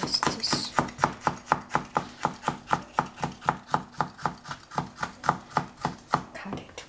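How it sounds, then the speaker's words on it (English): A knife chops capsicum on a cutting board, about twenty evenly paced, crisp close-up chops in a steady rhythm with no talking. "Cut the capsicum. This knife is not as sharp as this."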